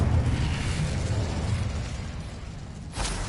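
Incendio fire spell cast in Hogwarts Legacy, a loud rumbling burst with a roaring whoosh that fades, then a second sharp flare near the end.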